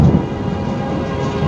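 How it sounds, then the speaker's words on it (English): Thunder sound effect during a spoken presentation on creation and evolution: a brief, loud, dense low rumble filling the whole moment, with no voices over it. "A bolt of white lightning, a great peal of thunder."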